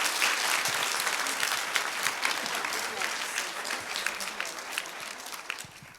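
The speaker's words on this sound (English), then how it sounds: "Please give her a warm round of applause." Audience giving a warm round of applause at a university playlab launch for a professor, many hands clapping densely and evenly for several seconds, gradually thinning toward the end.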